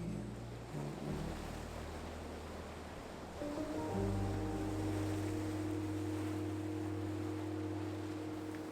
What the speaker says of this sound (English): Waves gently stroke the shore